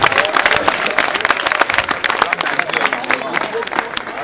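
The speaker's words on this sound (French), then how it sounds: "Est-ce qu'on ne peut pas applaudir pour la princesse et le prince, s'il vous plaît?" Guests at a customary wedding applaud the bride and groom, loud and close, with quick overlapping claps and crowd voices mixed in throughout.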